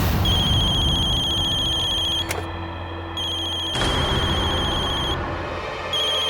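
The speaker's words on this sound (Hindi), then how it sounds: "आपका फोन बज रहा है।" A mobile phone rings indoors with a loud, close electronic ringtone that repeats in short bursts and never pauses for talk, as in a television drama scene.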